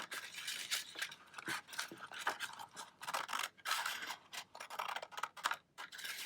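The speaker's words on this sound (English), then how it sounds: "So this is where we're going to cut along this line as nicely as you can." Scissors cutting paper along a line for an accordion book, a quick run of short crisp snips in uneven bursts, close and quiet with no talk.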